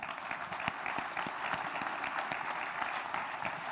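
An audience applauds to welcome R. Gopalakrishnan and R. Narayanan at a TiCon startup event, a full, steady burst of many hands clapping with a few sharper claps standing out.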